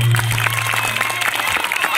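Steady applause fills a crowd at a staged Sita Swayamvar performance: dense, continuous clapping held at an even level for about two seconds, with a low electrical hum and a voice mixed in.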